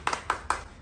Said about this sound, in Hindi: ताली मारियो।